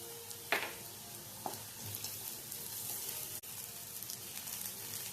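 Ginger, garlic, green chilies and cashews sautéing in a pan for a green peas gravy: a steady soft sizzle with a few brief stirring scrapes and clinks near the start, no voices.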